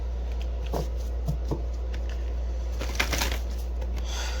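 Tarot cards are shuffled nearby in a few soft, uneven bursts of flicking and sliding over a steady low hum.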